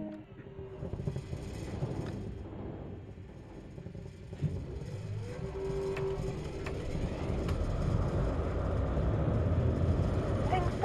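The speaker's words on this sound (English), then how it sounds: "hearing the engine revs build and starting to feel the power this powerful locomotive holds" Diesel locomotive engine in Train Sim World on the GWR route, revving up with a deep rumble that swells steadily louder, while someone talks over it.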